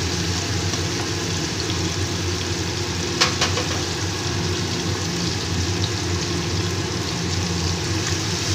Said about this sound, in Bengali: তেলটা আমার গরম হয়ে গেছে, এবার পনিরটাকে আমি আস্তে আস্তে করে ভেজে নেব।